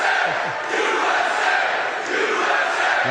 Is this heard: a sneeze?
no